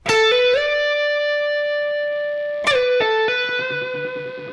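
An electric guitar plays a lick from John Mayer's "Gravity," with long ringing notes joined by hammer-ons and slides and colored by effects and reverb, close and alone with no voices.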